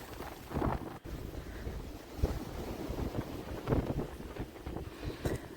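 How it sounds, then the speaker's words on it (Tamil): Rough sea waves surge and crash on the Jaffna shore in strong wind, with gusts buffeting the microphone and several heavy bursts of surf rolling in up close. "அலைகள் எல்லாம் இப்படி அடிக்குதுன்னு சொல்லி பாருங்க"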